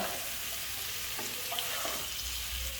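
Balochi chicken tikka karahi cooking on a low flame gives a dense, continuous sizzle and bubbling hiss with a few faint stirring knocks, close and steady throughout.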